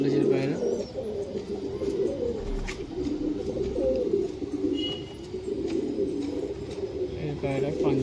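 Pakistani high flyer pigeons coo in a low, continuous murmur close by, with soft chirps mixed in, under ongoing talk.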